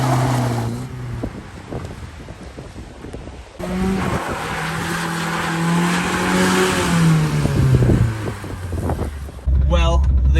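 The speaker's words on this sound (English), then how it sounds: "It kind of drifts." A 1965 Toyota Corona revs and drifts, its engine rising and falling with tire squeal and skidding, close to the microphone, with a brief louder burst of engine noise at the end.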